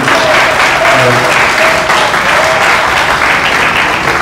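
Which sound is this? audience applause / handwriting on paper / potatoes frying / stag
audience applause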